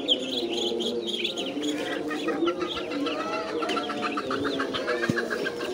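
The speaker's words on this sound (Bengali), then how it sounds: "হচ্ছে চীন হাঁসের বাচ্চা, চীন হাঁসের বাচ্চা" Chinese duck ducklings kept as poultry chirp constantly, a busy overlapping chorus of high peeps close by that runs through the whole stretch with no one speaking.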